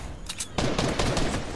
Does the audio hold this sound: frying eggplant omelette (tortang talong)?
no